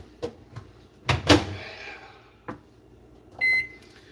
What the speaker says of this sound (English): I know the microwave's loud.